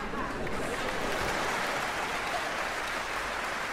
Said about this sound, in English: Then everybody claps,